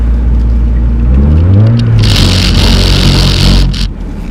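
A Mazda Miata does a short burnout, its engine revving hard and loud up close as the tyres hiss and scrub, then the noise cuts back near the end.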